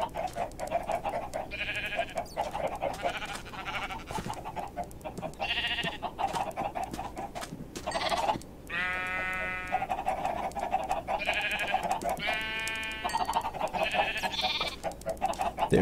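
Minecraft sheep bleat repeatedly over a steady ambient bed, a few wavering cries spaced several seconds apart, some nearer and louder than others.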